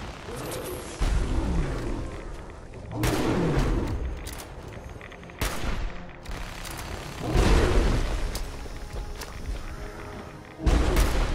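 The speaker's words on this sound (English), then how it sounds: "Grenades." Grenade explosions in Fallout 4 go off as heavy, booming bursts, roughly five of them spaced a couple of seconds apart, each swelling loud and rumbling before fading into the next.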